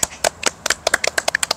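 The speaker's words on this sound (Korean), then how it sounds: "박수." A small audience at an outdoor riverside gathering by the Han River claps in short, scattered bursts, a quick patter of individual hand claps that comes in uneven waves rather than steady applause.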